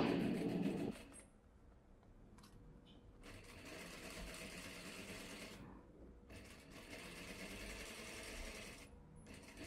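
A sewing machine stitches fabric dress parts together, a close, steady mechanical whirr running continuously with brief pauses between seams, with no voices.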